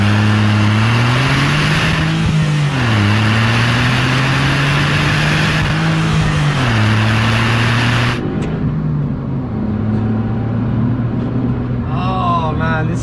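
Engine of a Brabus 451 Smart car revs hard while driving, climbing and dropping through shifts, loud and close, before easing off near the end as a voice briefly speaks.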